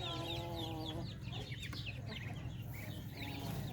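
Native Filipino chickens cluck and chatter together inside a cage, steady overlapping calls close by over a constant low background hum.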